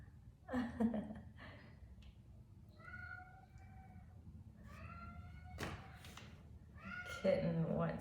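A kitten meows repeatedly, several short rising mews spread across the stretch, close and fairly soft, in a quiet room where seedlings are being planted, with a brief thump near the end.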